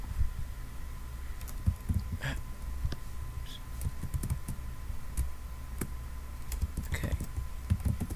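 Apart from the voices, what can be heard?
typing on a computer keyboard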